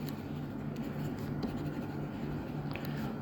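Pen writing an accounting formula for standard fixed overhead by hand, steady continuous scratching on paper at close range with no talking over it.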